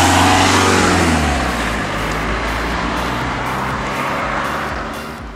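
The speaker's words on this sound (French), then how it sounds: "la voiture qui passe devant" A car passes close by on the road near a bridge, its loud engine and tyre roar peaking at once and then slowly fading away.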